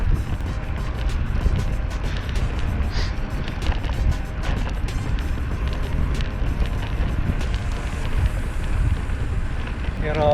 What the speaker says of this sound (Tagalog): Kaso lang headwind. Salubong ang hangin.